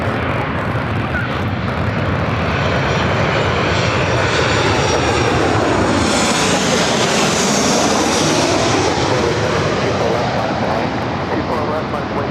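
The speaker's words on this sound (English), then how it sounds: "This arrival is Delta Airlines 2769 coming in from Seattle on the 737-800" A Delta Airlines Boeing 737-800 arriving from Seattle, a loud, continuous broadband engine roar with a slowly shifting pitch sweep as it passes close by, steady throughout with no pauses.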